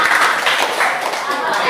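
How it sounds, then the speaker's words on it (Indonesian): Children in a class clapping together, a busy blur of hands mixed with kids' voices talking over it, close and loud for a short burst. "Tepuk tangan buat yang dulu"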